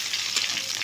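Garlic sizzling in hot oil for a lentil dish with dhekia fern greens, a steady, close frying hiss that holds level throughout with no talk.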